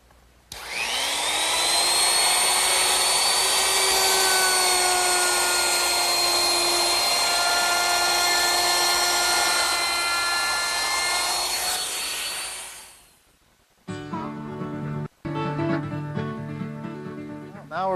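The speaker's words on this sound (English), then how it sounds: "I want to use a 1/4 inch rounding over bit, and I want to round over the top edges of each leg." A router fitted with a 1/4 inch round-over bit shapes the top edges of wooden candle stand legs, a loud steady high whine that spins up, runs about twelve seconds, then winds down, followed by brief shop noises.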